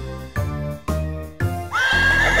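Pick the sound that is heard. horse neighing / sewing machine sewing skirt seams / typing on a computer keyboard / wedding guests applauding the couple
horse neighing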